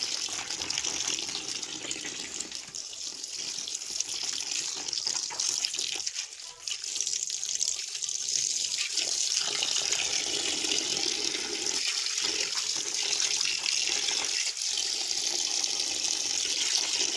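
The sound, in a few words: water running from tap into a bucket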